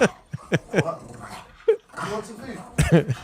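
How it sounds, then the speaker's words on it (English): A dog whimpers and yips in short excited bursts at the sight of barbecue chicken pizza, loud and close, with human voices talking around it. "Our dog couldn't contain her excitement when seeing some barbecue chicken pizza."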